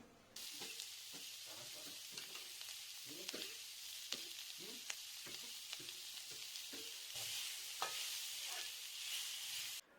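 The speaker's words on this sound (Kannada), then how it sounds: "ಈರುಳ್ಳಿ ಬೇಗ ಬೇಯೋದಕ್ಕಾಗಿ ನಾನು 1 ಟೇಬಲ್ ಸ್ಪೂನ್ ಉಪ್ಪನ್ನು ಸೇರಿಸಿಕೊಂಡು ಬಾಡಿಸ್ಕೊಳ್ತೇನೆ" Onions with salt sautéing in a pan, a constant close sizzle broken by a steady run of spoon scrapes and stirring knocks.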